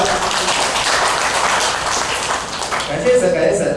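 A church congregation at a Sunday service applauds together, a dense, steady wash of clapping that fills the room for several seconds, with a few voices rising near the end.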